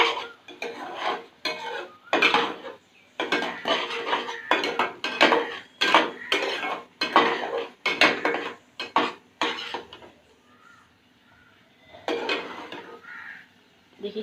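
Spices frying in a pan are stirred with a utensil, giving repeated bursts of scraping and clattering against the metal in an uneven rhythm, with a quieter stretch before the stirring resumes.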